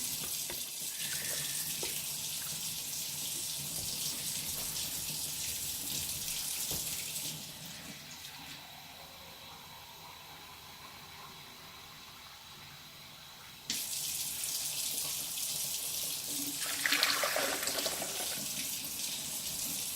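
Water runs steadily from a kitchen tap while filling for a West Bend Cocoa Grande latte maker, a continuous close hiss that briefly drops away midway and then resumes.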